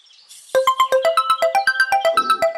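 A mobile phone ringtone bursts in after half a second of near silence and plays a loud, bright repeating melody of short tonal notes in a steady rhythm, close and alone, during a tea break in a Hindi short film.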